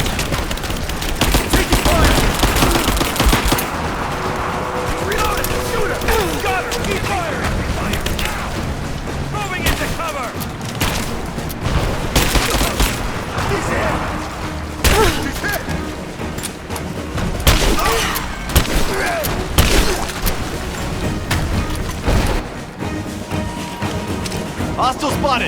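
Video game gunfire from Rise of the Tomb Raider, at the Acropolis level: dense bursts of rapid shots, booms and impacts run steadily and loudly throughout, with combat voices calling out over the shooting.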